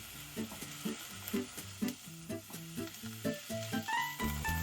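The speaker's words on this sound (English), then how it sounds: "We're going to continue cooking this for about 7 to 8 minutes until most of the moisture has been evaporated." Onions and mushrooms cook in a pan with a soft continuous sizzle, under a steady rhythm of spatula taps and scrapes against the pan, close and moderately quiet.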